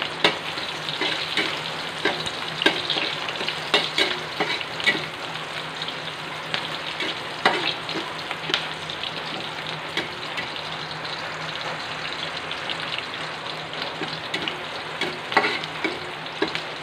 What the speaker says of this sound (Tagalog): Igisa natin itong onion. And then next, garlic.